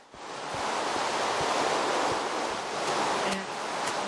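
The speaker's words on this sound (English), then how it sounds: "This is waterfall." Waterfall in Minecraft, a broad steady rushing hiss of falling water, constant and fairly loud with no pauses, a few faint clicks scattered through it.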